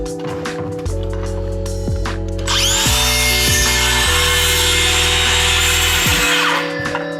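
Power saw cutting through a piece of wood during a small drywall repair job, a loud close motor whine that rises sharply as the blade bites in and then winds down.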